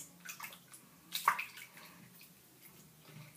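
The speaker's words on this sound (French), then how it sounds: "Ensuite, vous rincez dans de l'eau froide." Hair being rinsed in cold water in a basin, soft splashing and trickling with a brief louder slosh midway, then quieter drips, close and with no talking.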